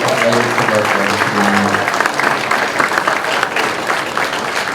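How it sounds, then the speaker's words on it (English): Audience applause fills a gala room at a Habitat for Humanity sneaker ball fundraiser, a dense, steady wash of clapping heard close and loud, with a voice briefly audible at the start. "Let's give them a big round of applause"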